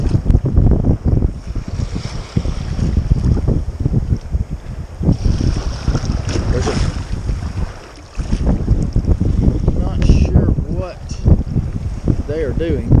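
Strong, steady wind gusts across the open Yukon River during an expedition, buffeting the microphone while a small paddled boat drifts along with the rudder holding it, loud and continuous with a brief lull midway.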